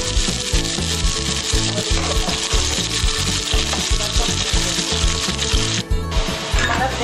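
Finely chopped onion with cumin fries in a pan for a capsicum and onion dish, giving a steady sizzle with rhythmic scraping and stirring strokes throughout.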